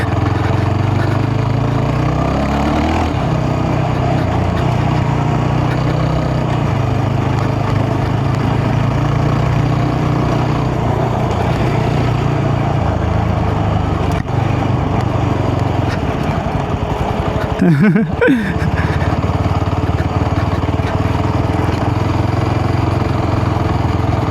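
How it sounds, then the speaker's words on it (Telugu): A Yezdi Scrambler's liquid-cooled engine runs steadily at idle with its radiator fan on, a loud continuous mechanical drone close by, broken by a brief rustling burst near the end. "రేడియేటర్ ఆన్ అయిపోయి ఇంజిన్ అయితే కూల్ చేస్తుంది"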